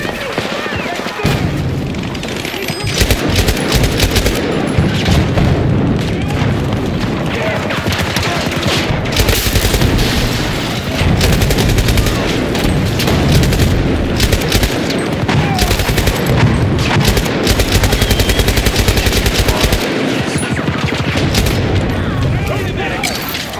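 An M240B machine gun firing in the video game Battlefield 2042, loud sustained bursts of rapid automatic gunfire with booms and explosions, nearly continuous across the whole stretch, with voices talking over the battle.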